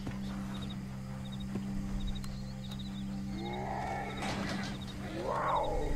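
A tiger in the video game Red Dead Redemption 2 gives a couple of deep growling roars, rising partway through and again near the end, over a low steady game hum with faint repeated chirps.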